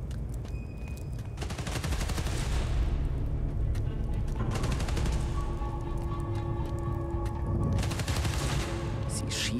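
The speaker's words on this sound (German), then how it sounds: "Sie schießen auf Transformatoren?" Sustained bursts of gunfire in Spider-Man: Miles Morales, dense rapid shots and booming impacts rolling in waves over a constant loud din, with game tones rising between bursts.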